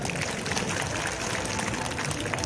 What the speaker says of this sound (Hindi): उन सब कर्मचारी, अधिकारी, बेरोजगार, युवा के लिए एक बार जोरदार तालियां बजा दो।